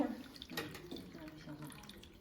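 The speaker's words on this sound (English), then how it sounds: "So we can show you how to pour water now." Water is poured into the reservoir of a diode laser hair removal machine, a close trickling and splashing with a few drips, while a person speaks over it.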